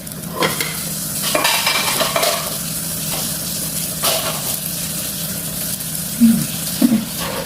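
Oil poured into a pan to fry spring rolls, giving a steady sizzling hiss with brief pops and a few louder clatters near the end; no one talks.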